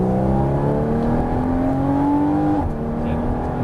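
Porsche Cayman S accelerating hard on the Dreux race track, its engine rising smoothly in pitch before a sharp upshift, loud and close inside the cabin.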